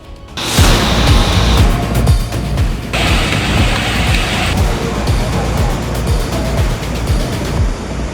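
Heavy monsoon rain pours down in a dense, loud, continuous roar with a broadband hiss that holds steady throughout, with no voices.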